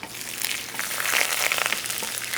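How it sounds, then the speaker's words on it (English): Garlic fries quickly in a pot, giving a steady, close hiss of crackling sizzle that runs unbroken throughout with no voices. "this is just going to be a quick frying method for this garlic"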